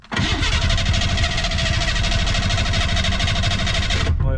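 A Ford Bronco II engine cranking loudly and steadily at close range for about four seconds before cutting off abruptly, with no voices.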